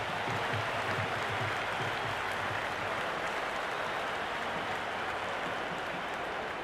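Cricket match crowd in the Cricket 2026 video game, Mumbai Indians versus Rajasthan Royals, producing a steady, broad wash of cheering and applause at a distance, faint and continuous, with no clear voices over it.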